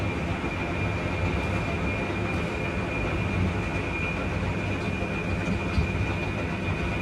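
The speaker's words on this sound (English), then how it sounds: "a 10-car M train" A 10-car M line subway train rumbles steadily along the tracks, a loud continuous roar with a thin high whine riding on top.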